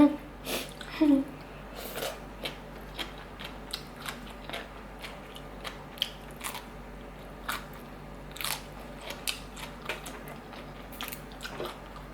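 A woman eats whole pieces of fermented fish, giving repeated crisp bites and chewing crunches spread through the stretch, fairly close, with faint background talk.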